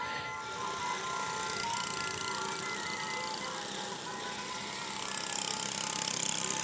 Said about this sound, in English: There they are, Dave, the mini motorcycles.